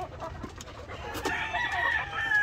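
White laying hens in their coop give soft, drawn-out clucks and a rising crow-like call, fairly near, over a steady murmur of background noise.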